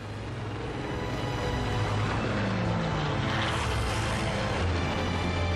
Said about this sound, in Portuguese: 360 aviões de guerra japoneses baixam em Pearl Harbor.